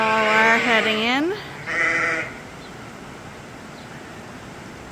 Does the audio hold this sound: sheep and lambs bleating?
yes